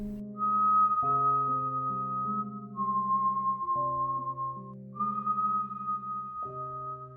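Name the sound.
two distinct whistles calling and answering in the night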